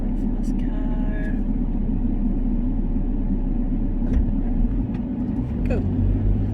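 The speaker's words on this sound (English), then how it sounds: "we'll just wait for this car" A car passes on a road in Rotorua, New Zealand, heard from inside a vehicle waiting to pull out: a steady low rumble of engine and tyre noise fills the whole stretch, fairly loud and close.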